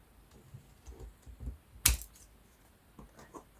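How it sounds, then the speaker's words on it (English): Paper tags cut from 12x12 scrapbook sheets, with soft handling clicks and rustles, one sharp loud snip in the middle, and a few quieter taps after, close and without speech. "So for our tags, I'm just going to cut those."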